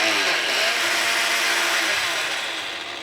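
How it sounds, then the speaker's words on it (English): A blender whirs loudly and continuously as it purees cooked pumpkin with onion sweated in olive oil, a dense close grinding roar that tapers off slightly at the end, with no talking. "All we're going to do now is take it off the stove and put it into a blender."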